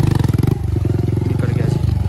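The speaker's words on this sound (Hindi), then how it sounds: "भाई साहब का बाइक जो है फंस गया" Motorcycle stuck in rough ground, its engine thumping in a loud, fast, steady pulse that strains and revs throughout.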